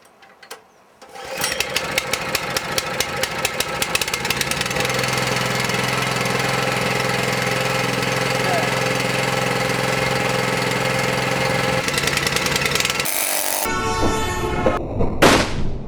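A Merry Tiller Titan tiller's small engine starts up and settles into a steady, loud running chug with rapid regular firing, continuing close by for most of the clip before revving briefly.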